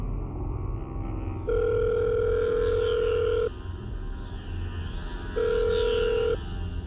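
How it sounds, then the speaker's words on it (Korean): A mobile phone placing a call to the 119 emergency number, with two loud steady tones of about two and one seconds sounding over a low background hum. "급한 대로 난 119에 전화를 했다"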